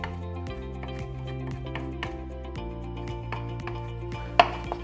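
Fresh rosemary leaves chopped with a knife on a board, a quick series of light, close taps over a faint tonal background hum, ending with one sharper knock.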